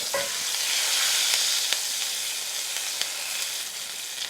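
A pan-seared steak sizzles steadily in a hot pan while being basted with fat, giving a loud, continuous bright hiss with occasional spoon scrapes and small pops breaking through, close up and with no talking.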